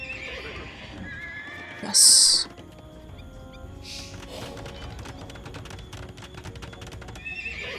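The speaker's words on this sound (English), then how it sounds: "So many horses." Horses neighing in a strategy video game, one loud shrill whinny standing out with fainter whinnies and clip-clopping hooves around it, plus a brief spoken word.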